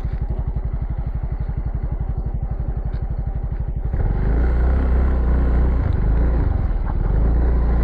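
A dual sport motorcycle engine putters at a steady idle, then revs up louder and rougher for the rest of the clip, close by.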